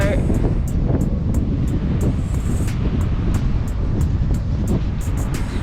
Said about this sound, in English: it is just ridiculously windy today